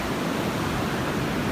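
Ocean surf breaking on a beach on a morning with fairly small waves, a steady broadband rushing wash that stays loud and even throughout.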